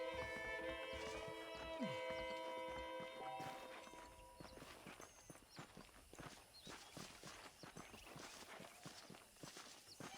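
Steady hooves of horses walking on hard ground in Red Dead Redemption, a rhythmic clip-clop that follows a stretch of background music and carries on alone.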